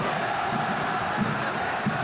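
Football crowd at Allianz Parque during a Copa Libertadores match between Palmeiras and Flamengo, a dense, steady roar of many voices filling the stadium with no pause.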